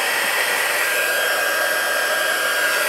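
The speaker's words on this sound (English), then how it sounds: "it'll be noisy for just a second here while I use the heat tool" A heat embossing tool blows hot air in a steady, loud, continuous roar close by, unbroken for the whole stretch with no talking.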